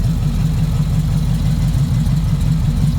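A 6.2-liter LS V8 idles steadily on a test stand, a deep, even rumble with a regular low pulse that holds close and constant throughout, with no voices.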